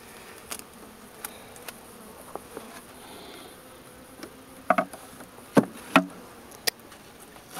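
Honeybees from a newly acquired, sickly hive buzz around the keeper, single insects whizzing close past in brief loud swells over a low steady hum of the colony.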